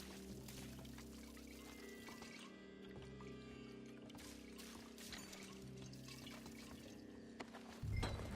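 Liquid pouring and splashing steadily as something is doused, from Red Dead Redemption 2 video game, a continuous close trickle with no talk.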